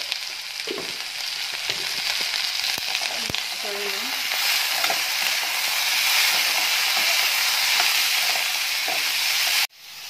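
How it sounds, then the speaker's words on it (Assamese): Pumpkin peels frying in a pan with salt and turmeric, giving a steady, close sizzle that stays loud and continuous before cutting off sharply near the end. "মোৰ ৰঙালাও বাকলি ভাজি হৈ গৈছে।"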